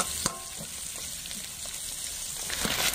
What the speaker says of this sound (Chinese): 辣椒，下锅。